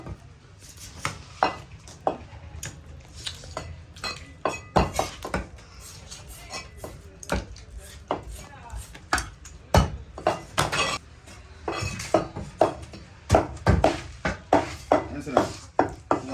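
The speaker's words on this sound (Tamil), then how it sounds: "தரமான மீன் அந்த ஃபங்க்ஷனுக்கு நாங்கள் இன்னைக்கு வெட்டுறோம்" A large white fish from Rameswaram is cut up for a big function, with repeated sharp chopping knocks and clanks of blade on board at an uneven pace while people talk nearby.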